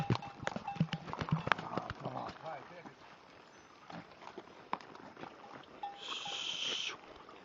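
Scattered clip-clop of horse hooves stepping nearby, irregular and fairly faint, with people talking and a snort or two.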